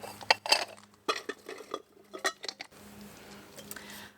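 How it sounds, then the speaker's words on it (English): Tiny clay pots handled in a garden, giving a series of light clinks and knocks in irregular bursts, fairly quiet and close, followed by softer rustling. "I got 8 of these really tiny clay pots"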